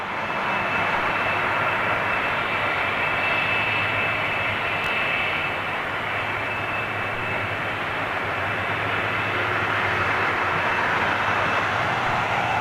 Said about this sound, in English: 747 purring his way up to departures.